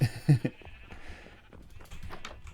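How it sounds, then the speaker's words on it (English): Sheep bleating on a multi-level sheep farm in Minecraft, a few short bleats close together at the start followed by quieter scattered bleats and faint clicks. "I just have every single color of sheep on each of these levels"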